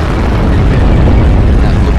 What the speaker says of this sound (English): That looked like a tank explosion